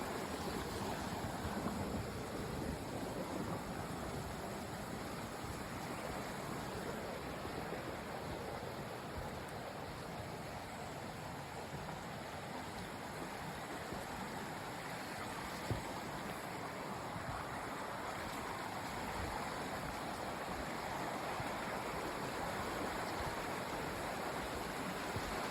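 A stream near Ravens Cliff Falls outside Helen, Georgia, rushes in a steady, unbroken wash of water close by and fairly loud for the whole stretch, with no voices.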